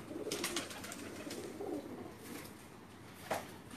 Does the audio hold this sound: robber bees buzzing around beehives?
no